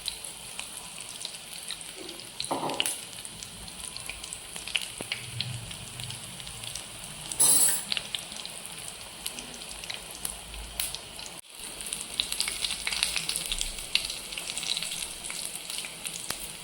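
Chilli bajji fry steadily in hot oil in a close, continuous sizzle and crackle, with brief louder bursts as more battered chillies go into the pan.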